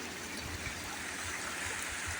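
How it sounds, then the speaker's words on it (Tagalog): Strong floodwater rushes down a river carrying coconuts, a loud continuous roaring wash of water with no pauses and no voices. "sobrang lakas ng baha"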